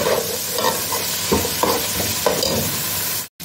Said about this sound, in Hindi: जब जिंजर गार्लिक अच्छे से फ्राई हो जाएंगे